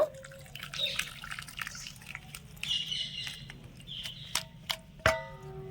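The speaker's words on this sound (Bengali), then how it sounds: "এবারে ছানাটা ছেঁকে নেব একটা বাটির উপরে এরকম একটা ছাকনা বসিয়ে দিয়েছি তার উপরে পরিষ্কার একটা কাপড় নিয়ে নিয়েছি এবারে ছানাটা ঢেলে নেব" Fresh chhana poured through clean cloth over a strainer set on a bowl, drips and small splashes falling irregularly, with a sharper spatter near the end, close and quiet.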